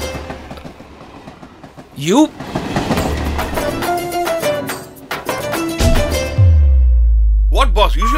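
A train rolls along its rails with a steady rumble and rhythmic clatter, heavy and close, while voices talk over it.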